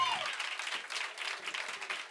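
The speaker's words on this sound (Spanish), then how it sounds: "Un aplaudiment per ell abans que res." Applause for Albert at a Catalan gathering, a brief, moderately faint patter of many hands clapping together, steady across the short span after a voice at the start.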